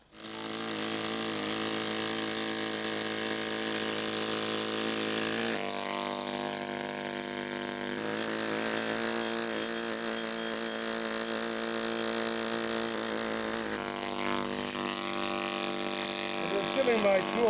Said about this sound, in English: Giving my tool a little bit of a head start with a flat chisel.